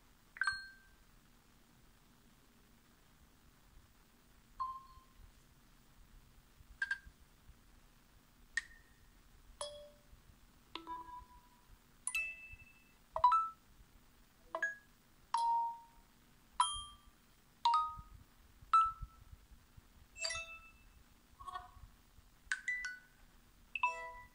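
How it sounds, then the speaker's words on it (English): A series of short electronic notification tones from an Essential PH-1 phone's default set plays one after another with brief pauses between them, each a distinct chime, beep or ding, growing more frequent. "We can take a look at some of the default notification sounds."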